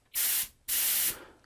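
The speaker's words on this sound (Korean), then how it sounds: "이 먼지 제거 스프레이를 이용을 하실 경우에는 흔들지 마시고 그 상태에서 그냥" A can of compressed-air dust remover sprays into a computer in two sharp, loud hissing bursts, each under half a second long, separated by a short pause.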